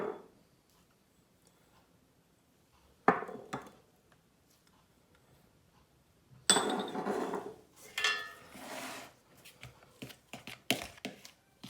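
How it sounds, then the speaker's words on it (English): Dry ingredients for naan dough, including baking powder, sugar and salt, stirred in a bowl: a few isolated sharp clinks, then a busier stretch of scraping and clattering strokes, fairly quiet overall. "We'll start off by mixing in the dry ingredients."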